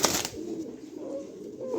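A cream bar racer male pigeon, offered for sale, gives a short, soft burst of cooing at the start, then fades into a quiet background.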